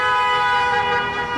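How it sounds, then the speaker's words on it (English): Car horns honk together in celebration around Detroit, a steady, sustained blare of overlapping tones held for the whole moment, loud and close with traffic rumble underneath. "Freedom is what many Iraqi exiles around Detroit were honking their horns for."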